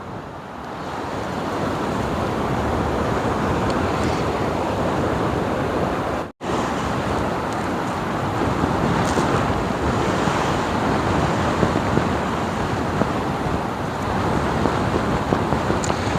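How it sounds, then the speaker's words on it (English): Strong gusting wind at an estuary shore buffets the microphone in a continuous loud roar, with waves and surf rushing underneath and a brief dropout partway through. "The wind is picking up now badly. It's shaking the camera all over the place."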